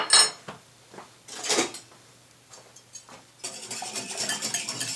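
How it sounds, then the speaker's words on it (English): A whisk clinks and scrapes in a bowl of chicken marinade with pineapple and lime juice, starting with a few sharp taps and then settling into a steady, close stirring rattle. "We're going to mix all this together. Let me grab a whisk."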